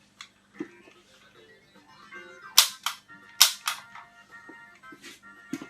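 A Nintendo Beam Gun toy with recoil action firing, two sharp loud snapping shots each followed by a mechanical clack, amid quieter clicks and handling sounds.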